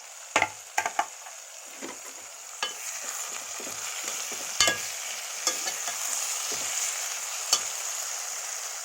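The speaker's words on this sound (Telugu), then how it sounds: "వంకాయ ఆయిల్లో బాగా మగ్గాలండి." Brinjal fries in hot oil with a steady hiss, while a spoon scrapes and clacks against the pan in scattered strokes, near and clear, without any talking.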